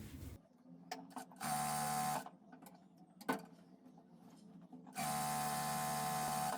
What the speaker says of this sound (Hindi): इसको आप डबल सिलाई लगा लीजिए